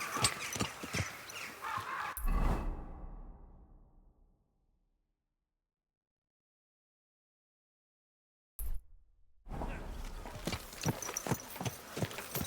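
Horse hooves clip-clop in a steady walking rhythm while riding in Kingdom Come Deliverance 2, cut off by several seconds of silence before the hoofbeats resume.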